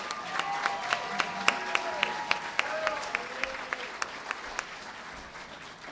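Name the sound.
audience applause for speaker Cherie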